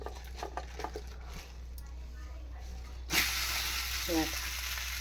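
Rice flour batter hitting oil on a hot pan, a sudden bright sizzle that starts partway through and holds as a steady hiss, with faint kitchen handling sounds before it and a brief clatter near the end.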